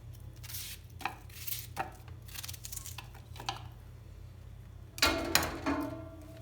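Onions are chopped on a board with a knife in uneven clusters of crisp, close cuts over a low steady hum, ending in a louder run of rapid chops.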